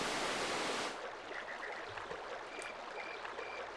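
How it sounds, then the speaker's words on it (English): Steady rushing water from a flowing river in the Dark Cloud video game, a continuous broadband wash heard alone, louder at the very start and then settling into an even, moderate flow. "Now the river will flow, and every time we put down a river now, we'll actually have water in it."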